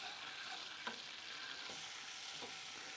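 Molten sugar stirred in a hot pan for banana muffins, a steady dense hiss and bubbling sizzle throughout with faint scrapes of the spoon now and then, close and even, no voices.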